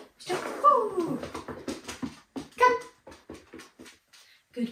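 A puppy whimpers and yips in a quiet cottage on the Isle of Skye, a string of short, high, wavering cries and whines close by, with brief pauses between them.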